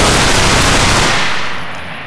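A loud, dense burst of rapid automatic gunfire from the video game Underhell roars for about two seconds before trailing off slightly at the end.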